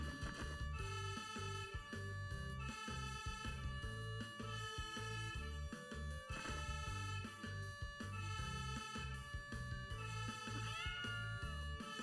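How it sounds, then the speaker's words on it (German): Cartoon cat meows from a children's firefighter video game, rising and falling over continuous bright game music with steady rhythmic backing. "Da auf dem Baum ist schon wieder eine Katze."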